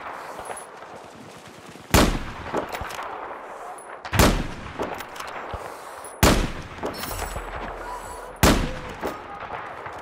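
L115 sniper rifle fired with an 8x scope in Battlefield 4, four loud, sharp cracks spaced about two seconds apart, each trailing into a rolling echo over continuous background battle noise.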